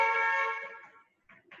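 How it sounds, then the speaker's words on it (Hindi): A single sustained car horn blast sounds in the background, fading out over about a second, followed by faint muffled noises. "लाइक अ हॉर्न, जैसे कोई हॉर्न बजा रहा हो."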